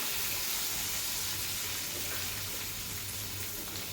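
Capsicum being stirred in a hot pan after steaming under a lid, with a low, steady sizzle and faint scraping throughout.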